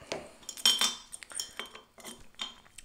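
A spoon clinks against a glass while detox powder is stirred into a drink, giving a rapid series of light, close metallic taps and chimes, and no one speaks.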